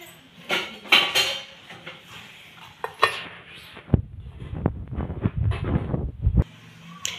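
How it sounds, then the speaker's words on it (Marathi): A metal spoon scrapes and clinks against a bowl while grape juice is pressed out of grape skins, giving close, irregular scraping and tapping sounds with short pauses between strokes. "एका चमच्यानं पूर्ण ज्यूस ह्याच्यातला काढून घेणार आहे सालमधला"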